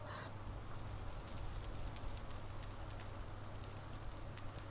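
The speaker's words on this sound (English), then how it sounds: "Oh, that tree is burning nice." A tree burning in a game world during rain, with a steady, faint fire crackle and scattered sharp pops over a continuous low rumble.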